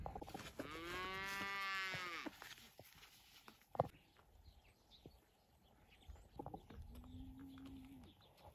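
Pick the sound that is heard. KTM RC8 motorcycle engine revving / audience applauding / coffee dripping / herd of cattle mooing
herd of cattle mooing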